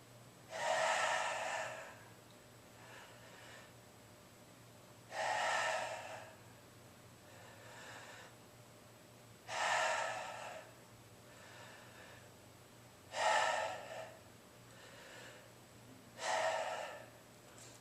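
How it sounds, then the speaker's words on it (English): Deep, forceful breaths taken with the tongue stuck far out, as part of a breathing exercise: five loud inhalations about every four seconds, each followed by a softer exhalation, close and alone with no talking. "you're going to protrude your tongue out as far as you can while you're breathing very deep"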